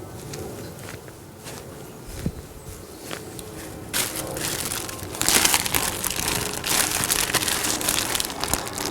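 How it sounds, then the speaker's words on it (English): A plastic bag of damp New Zealand sphagnum moss being handled for air layering a large maple, giving close, continuous crinkling and crunching that swells louder in the second half. "So this moss comes packed in plastic bags so that it is always damp"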